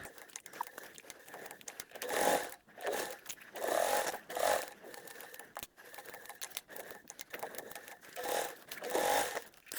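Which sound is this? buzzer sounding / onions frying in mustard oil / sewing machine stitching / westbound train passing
sewing machine stitching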